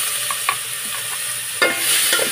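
Tomato and a small portion of meat sautéing in a pan, a steady close frying hiss with scattered stirring scrapes and spatula knocks, no voices.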